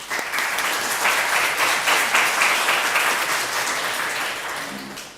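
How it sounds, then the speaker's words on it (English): An audience at a STEM innovation contest finale applauds as a university engineering team walks on stage. The clapping is dense, loud and sustained, then fades slightly toward the end. "Applause."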